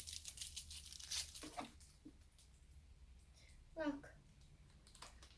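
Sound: tearing open plastic wrapping of an ice cream cake

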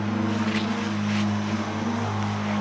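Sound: airplane

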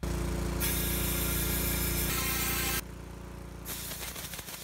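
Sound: compressed air blown through propane fridge flue and burner stack

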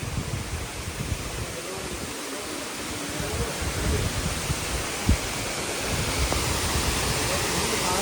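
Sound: waterfall seen from a forest pavilion

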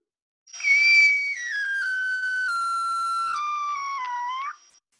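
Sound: recorded dolphin whistle

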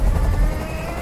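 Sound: helicopter noise in Detroit: Become Human video game

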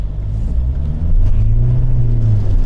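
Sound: SsangYong Grand Musso pickup wheel spinning

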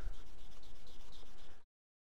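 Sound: sanding a pen blank with green-grade sandpaper on a lathe

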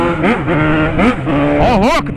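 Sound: Yamaha XJ6 motorcycle engine revving

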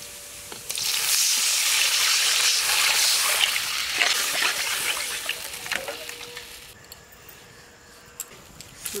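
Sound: water poured into fried mung dal, sizzling

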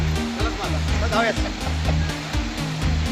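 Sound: Bhandardara waterfall flowing

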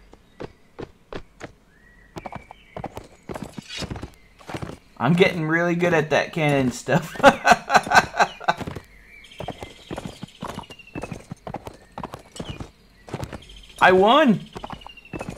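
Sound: horse hooves clip-clopping in video game Caribbean

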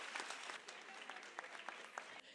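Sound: audience applause at dedication ceremony

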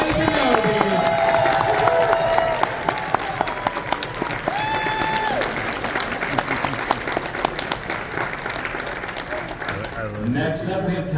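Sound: audience applause at cosplay contest

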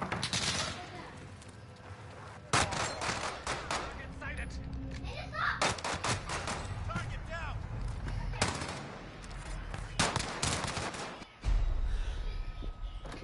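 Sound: gunfire in the video game Warzone

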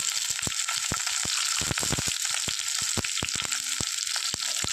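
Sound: garlic and green chili frying in pan for mushroom masala

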